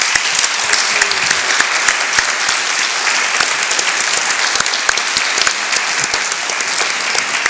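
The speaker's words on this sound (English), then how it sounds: "We should give them a big round of applause." A large audience at a Rotary district conference closing session bursts into loud, sustained applause, dense clapping filling the room evenly from start to finish.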